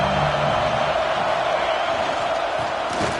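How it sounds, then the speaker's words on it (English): Dense, steady roar of a large sports crowd at an NCAA football game, a loud continuous wash of voices and cheering with no pauses, swelling slightly toward the end. "Listen to the crowd energy here in the early going."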